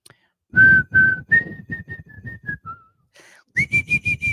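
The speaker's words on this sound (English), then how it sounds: "I can whistle while smile if you guys didn't know" A person whistles a series of clear, bright notes, some held and some short, with breathy, low rumbling sounds underneath between phrases.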